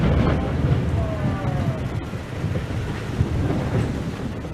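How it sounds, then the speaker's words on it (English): A lightning bolt striking a royal clock tower, followed by a deep, rolling rumble of thunder that stays steady and heavy, with faint crackling and a few higher whistling tones above it. "suddenly, a blinding bolt struck the Royal Clock Tower at Abra Albite, creating a moment both terrifying and mesmerizing"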